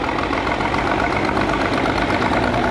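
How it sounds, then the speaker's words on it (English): A Bucyrus machine with a Continental gas engine runs at a show, making a steady, rough, close mechanical rumble with a rapid, even knocking pulse throughout. "This one here is actually a gas engine in it."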